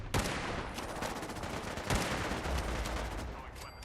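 Gunfire in Fallout 4, a rapid stream of loud close shots with two heavier blasts standing out, continuing steadily without a break.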